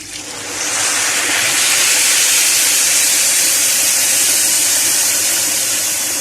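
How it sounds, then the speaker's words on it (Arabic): Water pours into a pot of rice, lentils and vermicelli for koshari: after a short quiet start, a loud, steady rushing hiss fills the rest of the stretch. "وهنزل بقى بكميه الميه بتاعتنا"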